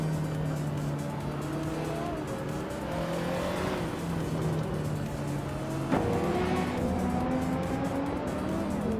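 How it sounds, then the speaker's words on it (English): Race cars, including a 1986 Ferrari 308 GTS, launch off the line at Interlagos: several engines rev and climb in pitch with tire squeal and cars passing, a dense continuous roar without speech. "the race has kicked off at Interlagos, and up front, we've got Violetta Mama in that classic 1986 Ferrari 308 GTS, starting on pole"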